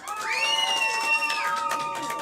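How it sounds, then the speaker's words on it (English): An improv comedy crowd cheers and applauds to vote for a performer, with loud high-pitched whoops and shouts riding over a bed of clapping throughout. "If you want it to be Punch, applaud now."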